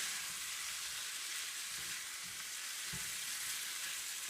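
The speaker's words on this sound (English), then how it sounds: "stir it all around in the pot to coat the beets and the potatoes with the turmeric and the oil" Beets and red-skinned potatoes being stirred with turmeric and oil in a hot pot, giving a steady broad sizzle with faint scraping stir strokes underneath, close and continuous.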